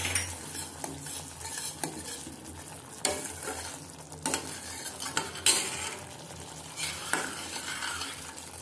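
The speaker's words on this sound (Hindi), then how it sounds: "और इसको चम्मच से अच्छी तरह पकने तक चलाते रहेंगे।" A spoon stirs spicy momo chutney with tomato sauce in a hot pan, scraping and clinking against the metal in irregular strokes over a soft, steady sizzle, close and fairly quiet.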